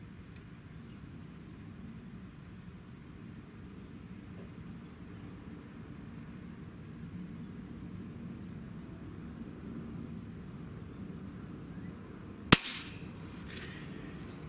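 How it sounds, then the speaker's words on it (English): A Diana LP8 Magnum .177 breakbarrel air pistol fires a single sharp crack late on, standing alone over a quiet background hiss. "Shot number 4."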